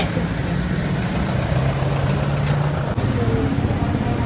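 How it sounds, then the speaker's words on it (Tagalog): A Rusi DL 150 motorcycle engine runs at a steady idle nearby, a continuous low hum with a faint tonal drone and no pauses. "Ayun ang makina."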